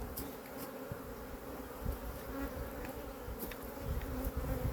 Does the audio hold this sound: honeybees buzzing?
yes